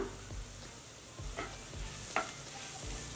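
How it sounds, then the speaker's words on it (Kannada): Chilli-peanut chutney stirred in a pan over low flame, a spoon scraping through it in slow repeated strokes with a faint, soft sizzle underneath, close and quiet with no voices. "ಲೋ ಫ್ಲೇಮ್ ಇಟ್ಕೊಂಡು ಮಿಕ್ಸ್ ಮಾಡೋಣ"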